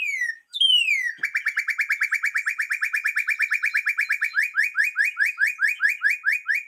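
A male northern cardinal's whistle-like song, recorded clean and close, opens with a couple of sliding whistles and breaks into a fast, steady series of repeated notes that spread into slower upslurred whistles toward the end.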